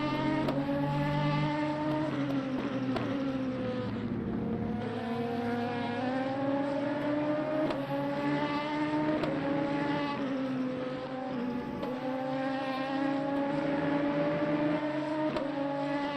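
LMP3 prototype race cars accelerating in the Le Mans Ultimate racing game at a Spanish circuit at sunset in heavy traffic: a steady, droning engine note rising in pitch through gears, continuous and fairly quiet, with no talk.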